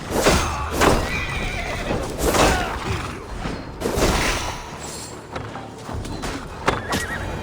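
Horses neigh and whinny repeatedly in the video game Assassin's Creed Valhalla during the siege of Paris, several loud calls spread across the clip over dense battle din and hoof clatter.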